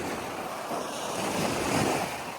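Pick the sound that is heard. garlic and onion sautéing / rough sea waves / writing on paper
rough sea waves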